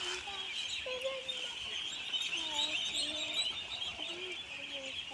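Young ducklings being raised on a farm, giving repeated high, thin chirps and peeps over steady background birdsong and ambient noise, continuous and moderately close throughout.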